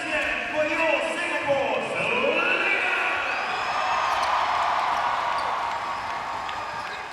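A Singapore crowd at a basketball game cheering and exhorting its team against Bangkok, a sustained wash of voices with shouts and whistles rising throughout, under a commentator talking.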